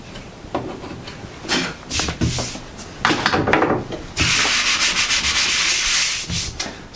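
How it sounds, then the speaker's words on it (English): Filler on built-in wooden shelves being sanded by hand, rough rasping strokes in uneven bursts that build into a longer, louder stretch of continuous rubbing before easing off. "sand down the filler, not forgetting to clear out the dust from the holes we need"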